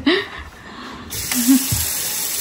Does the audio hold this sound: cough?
no